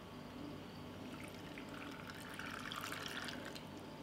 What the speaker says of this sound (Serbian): Zatim ću proključalu i ohlađenu vodu sipati u teglu.